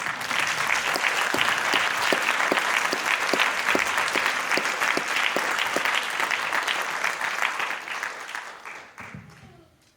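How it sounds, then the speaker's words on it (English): Sustained applause from a large audience at an education summit keynote, dense and steady for several seconds before tapering off near the end. "we can just put our hands together for Lynn Howard, her team, her colleagues"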